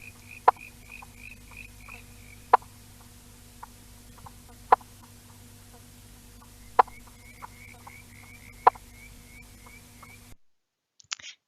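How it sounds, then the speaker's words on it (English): Eastern banjo frog (pobblebonk) calls: sharp single plonking clucks repeating every couple of seconds, evenly spaced and clear, over a faint steady insect-like trill, with no talking. "they sound a bit like a chicken's cluck"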